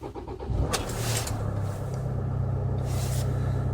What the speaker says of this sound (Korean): 제 차에 시동을 한번 걸어 보겠습니다